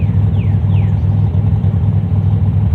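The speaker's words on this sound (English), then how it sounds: "Car's running really well." A Pontiac Grand Am with a supercharged 3800 engine swap idles loudly and steadily nearby, a low rumbling drone with a slight rhythmic pulse and exhaust leaks, plus a couple of faint high chirps early on.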